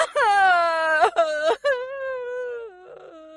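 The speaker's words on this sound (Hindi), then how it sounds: "तभी अचानक उसको किसी लड़की के रोने की आवाज आती है" A girl cries in a dark forest at night, a long wavering wail with sobbing breaks that rises, falls, and trails off into softer whimpers, close and alone.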